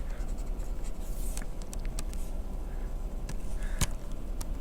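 Marker or chalk strokes on a classroom board during a math lecture, a handful of short scratchy squeaks and taps spread irregularly over a few seconds, close-miked against a steady room hum with no speech.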